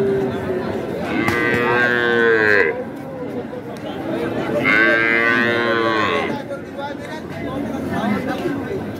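Dairy cows and calves of improved milk breeds moo at a rural cattle market, two long drawn-out lows a few seconds apart, rising over a steady murmur of crowd chatter and voices.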